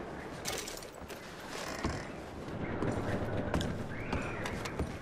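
Horses in the video game Red Dead Redemption 2 make irregular hoof clops and creaking tack, close and moderately loud, over a busy outdoor game ambience.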